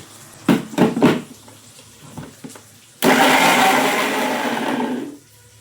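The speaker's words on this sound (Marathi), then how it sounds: "टोमॅटोची प्युरी करून घेतो आपण." A kitchen blender purees cooked tomatoes for red pasta sauce, a loud steady whirring roar running about two seconds before cutting off, preceded by a few short knocks and clatters of the jar being handled.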